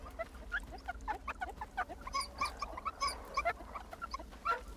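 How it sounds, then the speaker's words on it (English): In a video game, a dog gives rapid, high, repeated yelps and squeals, as if in pain, at moderate loudness over a low background hum, with no talk. "I was hearing a dog slowly dying in fire"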